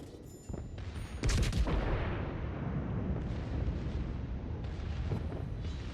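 Naval gunfire from ships in World of Warships, several heavy booming shots in quick succession, then a sustained rumbling roar of continued fire and impacts, loud and close.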